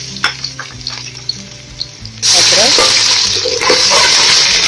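Ginger hits hot oil with well-browned onions for biryani, setting off a sudden loud, steady sizzle after a couple of seconds of quieter clinks and stirring.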